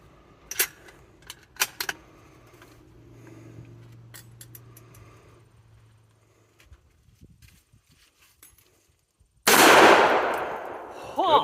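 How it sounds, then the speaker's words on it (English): Two sharp, close gunshots from a .308 rifle firing 165-grain Interlock rounds at armored glass on an outdoor range, early in the clip, followed by quiet and then a burst of loud broadband noise near the end. "2 shots."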